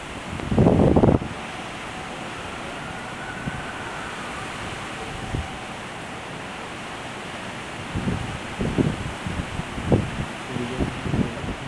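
Light waves wash across a flooded downtown street in Brickell, Miami, during a 2016 king tide. Soft, steady rushing water noise is broken by a loud splash near the start and a run of sloshing surges toward the end.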